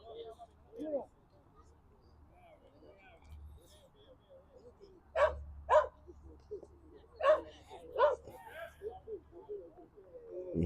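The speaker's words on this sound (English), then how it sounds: "You hear that little puppy in the background." A small puppy yaps in short bursts, about four sharp barks in the background at an outdoor coed softball finals game, with a commentator talking throughout.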